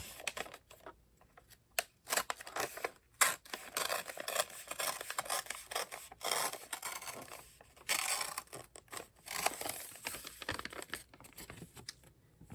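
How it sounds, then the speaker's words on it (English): Printed paper torn off an Okimate 20 printer: a steady run of crisp, close, papery rustles, scrapes and sharp ripping bursts with brief pauses, and no talking. "Now I can just forward this a little bit and tear it off carefully."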